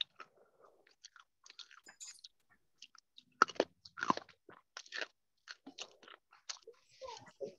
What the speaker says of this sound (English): Who's ever chewing, mute your mic.